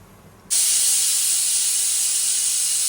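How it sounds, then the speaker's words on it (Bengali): Tea boils in a pot: after a brief quiet moment, a loud, steady, broadband hiss starts abruptly and runs on without a break. "আমার চা ফুটছে"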